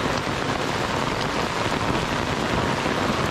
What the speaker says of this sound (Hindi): तो अभी अचानक से जोरों की बारिश स्टार्ट हो गई है